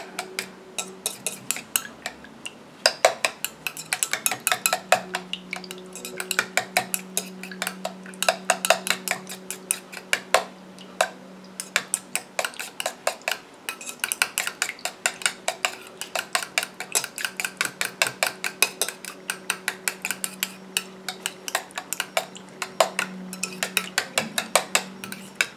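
Aloe vera hydrating mist mixture stirred in a container, a steady run of quick light clinks and ticks of a utensil against the vessel, fairly close and continuous with a faint hum beneath.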